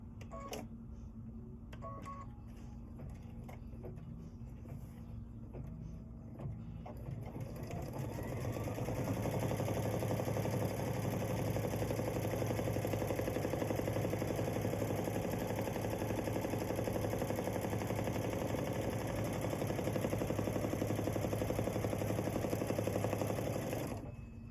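A home embroidery machine stitches a background placement line in the hoop, starting with a few soft clicks and whirs, then settling into a steady, fast mechanical hum and rattle, close and fairly quiet.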